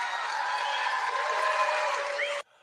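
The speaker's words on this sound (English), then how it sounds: "I don't know why people are clapping for." Political rally audience applauding, a steady dense wash of clapping held at even loudness for over two seconds before cutting off abruptly, with no talk over it.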